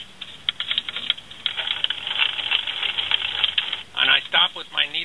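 Sewing machine stitching heavy duty web strap, a fast run of rapid mechanical ticks and clatter with a brief pause and a few slower stitches at the end, close and fairly loud.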